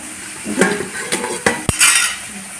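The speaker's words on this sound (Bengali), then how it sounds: "দেখো এখানে মাছ ভাজছি মাছের মাথাটা" A fish head frying in a pan sits under loud metal clatter, with several sharp clanks of a utensil against the pan and a soft sizzle between them, close by.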